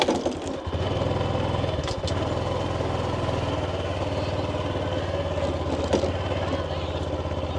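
A farm tractor engine chugs steadily at close range in a rice field, a continuous low throbbing idle with a few sharp knocks, while people talk over it.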